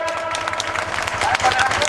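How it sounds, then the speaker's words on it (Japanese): A crowd at a Liberal Democratic Party street rally in Namba, Osaka claps in a continuous patter of applause to welcome Secretary-General Tanigaki, mixed with crowd murmur and talk. "大きな拍手でお迎えください"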